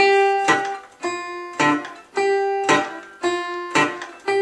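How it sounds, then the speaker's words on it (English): Blues fingerpicking on acoustic guitar, treble strings ringing a melody over a steady palm-muted thumb bass that adds a dull percussive thump on each beat, played alone and close. "I got that muted percussive effect happening because of my constant thumb."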